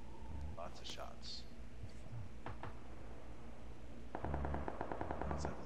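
Gunfire in the video game PUBG: scattered distant shots early, then a rapid automatic burst near the end, under players talking over voice chat.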